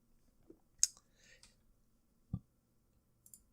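A computer mouse click pressing play, a sharp isolated click near the start followed by a few faint clicks and a soft thump.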